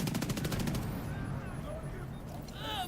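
Gunfire from The Division 2, starting with a rapid automatic burst of evenly spaced shots, then continuing as dense combat noise under game voices.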